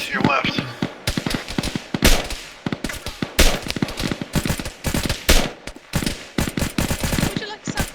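Turrets in a video game fire rapid bursts of gunshots, dense crackling volleys that stop and start repeatedly, loud and close, with occasional voices mixed in.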